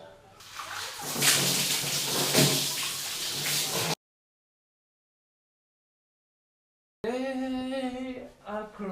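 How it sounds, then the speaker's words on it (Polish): Water pours steadily from a watering can in a makeshift shower in a rural Philippine province, a loud continuous splashing for about four seconds before a sudden cut to silence, followed by a voice singing. "muszę dokończyć prysznic używając filipińskiej metody, czyli polewaczki"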